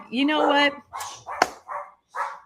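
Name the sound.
dogs barking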